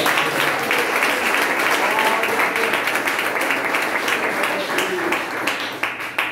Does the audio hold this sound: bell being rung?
no